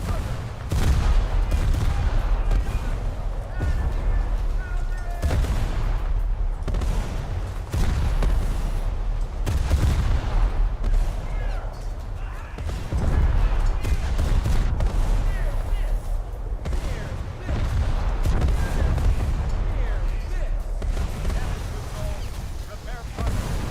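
Naval guns firing in a naval battle video game, heavy booming shots repeating irregularly over roughly twenty seconds, loud and close with rumbling low end, while a player talks over the action.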